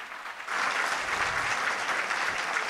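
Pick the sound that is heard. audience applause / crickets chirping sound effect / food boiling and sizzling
audience applause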